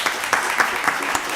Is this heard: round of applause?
yes